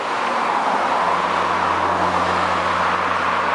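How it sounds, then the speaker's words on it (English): Road traffic roars past near houses by the site of the old Ravensworth Ann colliery pit, a loud, unbroken engine-and-tyre drone with a steady low hum throughout. "Sorry about the traffic noise"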